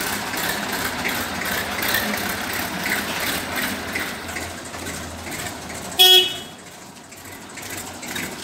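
A 1997 Massey Ferguson tractor engine idles steadily in the background with a low continuous rumble, interrupted around the sixth second by a brief sharp horn-like toot, then settles quieter.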